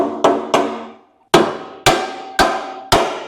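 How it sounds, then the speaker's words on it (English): Soft hammer striking steel parts while fitting a bolt-on four-link coilover kit to a Chevy squarebody truck: six sharp, ringing blows in an uneven rhythm, with a short pause after the first two, close and loud, no talking. "So I'm just gonna take a soft hammer."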